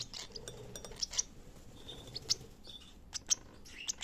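Baby paradise parakeets being hand-fed give faint, high, scattered chirps and tweets at irregular intervals, mixed with small clinks from feeding utensils, in a quiet room.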